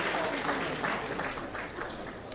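Steady applause from an audience at a job appointment letter distribution ceremony in Jharkhand, dense and sustained clapping throughout, moderately loud and continuous.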